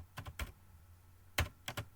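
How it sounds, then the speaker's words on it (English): A handful of computer keyboard keystrokes typed on an Ubuntu machine, two quick bursts of clicks separated by a short pause, close and quiet. "So we will type Python"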